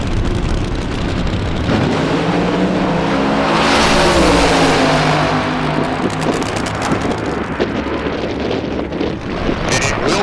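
Nostalgia drag racing Camaros roar down the strip in a loud, sustained blast of engine noise that swells and passes, with wind buffeting, heard from the track side.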